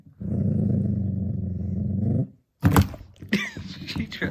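A dog gives a low, continuous growl lasting about two seconds, then a brief pause is followed by louder, irregular scuffling and rough noises close by.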